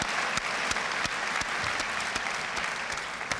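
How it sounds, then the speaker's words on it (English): An audience applauds poets after a spoken-word poetry performance, a steady, dense wash of many hands clapping at moderate distance, with a few sharper individual claps standing out. "I think we should give them a big round of applause right now."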